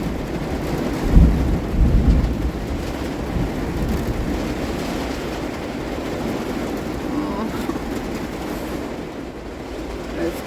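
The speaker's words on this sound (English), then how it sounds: "And now it's like thunder and lightning and" Heavy rain pounding on a van roof during a thunderstorm, a dense continuous roar with a deep rumbling swell near the start, loud and close with no voices.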